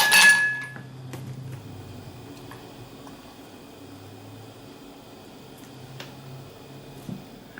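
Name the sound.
ice cubes dropped into smoothie glass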